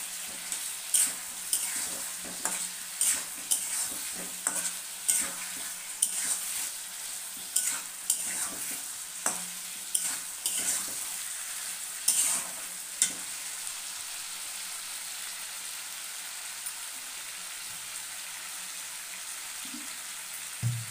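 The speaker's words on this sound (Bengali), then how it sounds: "এবার আমি ডিমটা আলুটা দিয়ে এটা আরও ভালো করে কষিয়ে নেবো।" Egg and potato stir-fried in a pan: soft sizzling under regular scraping strokes of a spatula, a stir roughly every second, close and fairly quiet.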